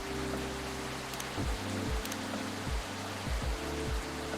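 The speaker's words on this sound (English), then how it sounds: "this rainy season sure is something." Steady rain ambience in the video game Coffee Talk, a soft even patter of drops at moderate level with a low repeating musical tone pattern underneath, no voices.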